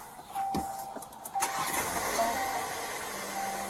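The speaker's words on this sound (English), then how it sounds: "she went and turned the car on." A car engine cranks and catches in one brief start, then settles into a steady idle that stays close and fairly loud with no voices over it.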